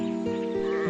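A sheep on a farm bleats in a loud, close, wavering cry that fills the moment with no talk.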